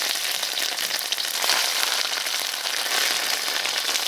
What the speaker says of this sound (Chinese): 下入这个肥肉，好，把它炒出一点油来